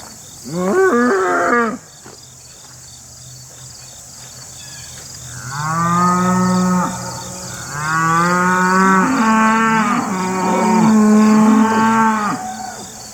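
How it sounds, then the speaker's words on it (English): Cattle on a farm flooded by Hurricane Ida, lowing in several long, loud moos, first a short call then a run of overlapping bellows from nearby animals, with no talking. "the cows are letting me know they're over there"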